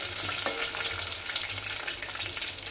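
Cardamom, bay leaf and marathi moggu fry in hot oil for bagara rice: soft, steady crackling sizzle, close by, with faint stirring scrapes and no talking.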